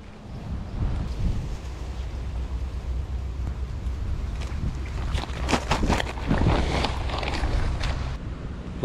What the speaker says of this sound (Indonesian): Angin kuat sangat. Memang angin kuat.